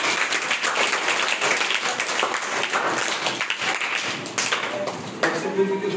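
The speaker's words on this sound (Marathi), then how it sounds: "टाळ्या वाजून." Audience clapping at a school prize distribution ceremony, a dense, steady patter of many hands that fills the room and eases off slightly near the end.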